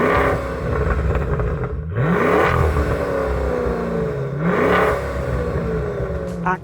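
A 2021 Maserati Levante Trofeo engine revs hard and close, loud throughout, with two rising revs that climb and drop back.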